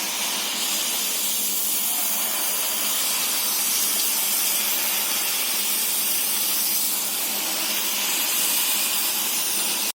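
Jalebi batter frying in hot oil, a loud, dense, continuous hiss and sizzle held steady throughout, close and with no voices.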